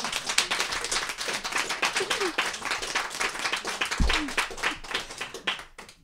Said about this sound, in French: Je les invite déjà à applaudir,